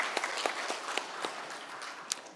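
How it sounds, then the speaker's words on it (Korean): A church congregation at a Sunday worship service breaks into scattered applause, with sparse, uneven claps over a couple of seconds, fairly faint and without talk. "할렐루야, 크게 영광의 박수를 돌리겠습니다."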